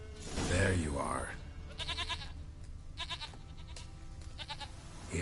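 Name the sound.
goat bleating in The Witcher 3 video game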